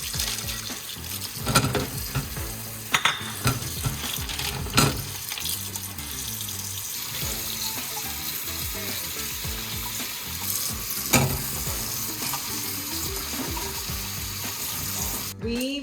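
Roots for Cantonese pork bone soup being washed in water, with running water, sloshing and rubbing sounds that are steady and close, punctuated by a few sharper knocks and no talk.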